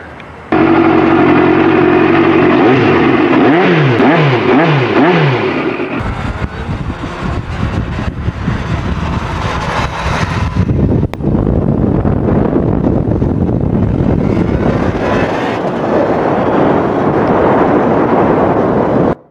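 A Kawasaki Ninja motorcycle engine runs loud and close, opening with a throbbing idle and a few rhythmic revs, then giving way to a heavy, sustained roar mixed with wind.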